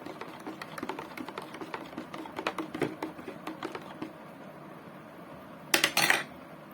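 Salted boiled green lime pickle being stirred, a string of quick clinking and scraping taps of a utensil against a container, then a louder clatter near the end, close and fairly quiet, no talk.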